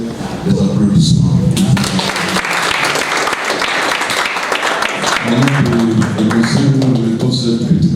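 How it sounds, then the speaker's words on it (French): Audience applause at a 100th birthday celebration in a hall, steady broadband clapping that runs throughout at close, loud level, with voices and musical tones mixed in at the start and again near the end. "Je pense que cela mérite des applaudissements."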